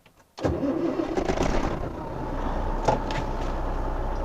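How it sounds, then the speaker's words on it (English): A truck engine cranks and fires up during a CDL pre-trip governor cutoff test, a short whir followed by a loud, close diesel roar that settles into a steady rumbling idle. "start the engine."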